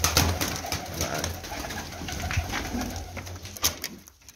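Pigeon chicks in a loft making soft, throaty cooing calls, a few faint close murmurs repeated irregularly over low background noise, with no talking.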